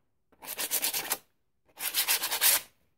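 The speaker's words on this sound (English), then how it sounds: "I'm gonna sand the edges a little bit" Two close, even passes of sandpaper rasp along the edges of a painted wooden holiday sign, each lasting under a second with a short quiet gap between.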